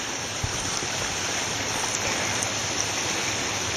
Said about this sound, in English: Just a little creek.